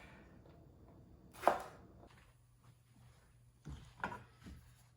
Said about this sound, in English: I'm getting there with chopping these peppers.